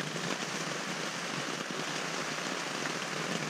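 Steady rain falls on a tent on a mountain ridge trail, a dense, even patter of drops close around the listener, with no voices.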